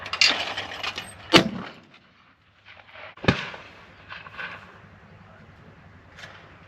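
Shotgun blasts at a clay target shoot, two sharp loud reports a couple of seconds apart, the first with some rustling before it, followed by fainter outdoor handling noises.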